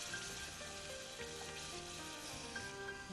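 Yogurt sizzles steadily as it meets a hot frying masala for mutton curry, a continuous dense crackle with no voices, fairly close and even in loudness throughout.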